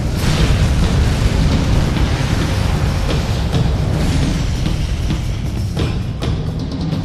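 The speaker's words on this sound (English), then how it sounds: "Geysers of liquid fire soar hundreds of feet into the air." A volcanic eruption sends geysers of liquid fire hundreds of feet into the air, heard as a loud, continuous roar with deep rumbling.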